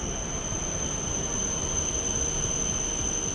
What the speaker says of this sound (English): I'm in the Sendai train station, the bullet train. So it's very loud